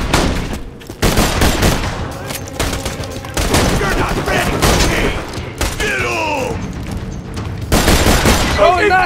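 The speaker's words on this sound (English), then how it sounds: "I'm about to shoot people." Rapid, loud gunfire and booming blasts from the Borderlands 2 game on Pandora come in repeated dense bursts, with a player speaking over the shooting.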